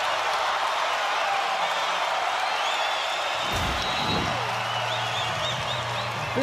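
Spectators at a college women's volleyball match between Kansas and BYU roar with sustained cheering and applause, a dense, loud wash of crowd noise with whoops rising above it and a voice talking partway through.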